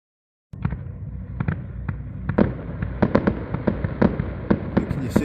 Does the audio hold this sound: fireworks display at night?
yes